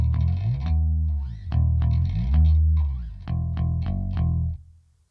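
An electric bass guitar plays a short turnaround riff of four phrases with sliding notes, a slightly chorused, gritty tone, close and solo, fading out at the end.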